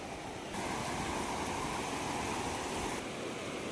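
Sea waves wash steadily onto the sand at Murud beach, a continuous close, full roar of surf with no voices.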